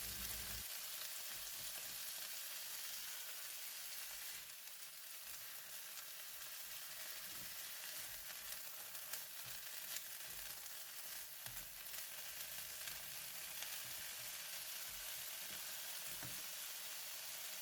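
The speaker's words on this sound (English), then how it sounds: "Give the bean sprout a stir to coat them with garlic oil over the heat." Bean sprouts stir-frying in garlic oil over the heat, a continuous loud hissing sizzle close by that stays steady throughout, with occasional soft scrapes of stirring.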